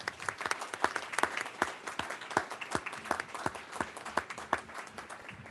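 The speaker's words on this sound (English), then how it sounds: "A well-deserved round of applause for students." Audience applause at a school board meeting honoring students, steady clapping from many hands with some individual claps standing out, sustained and fairly close throughout.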